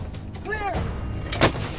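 Artillery fire pounding a Confederate fortress, with booming blasts over a rumbling battle backdrop and a brief whistling sweep before a sharp close report.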